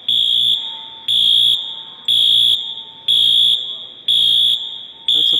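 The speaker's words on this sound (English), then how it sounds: "The fire alarm just went off." A loud fire alarm sounds inside New York City's Port Authority bus station, a piercing electronic horn blaring in regular bursts about once a second, each fading slightly before the next.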